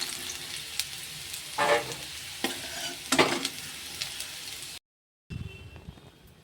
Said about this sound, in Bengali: আলুগুলো ভালো করে ভাজা হয়ে গেছে, এবার আলুগুলোকে আমি তুলে নেব সব।